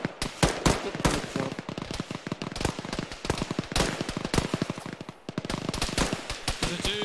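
Loud, rapid bursts of video game gunfire crackle almost continuously, with sharp individual shots and brief pauses between volleys.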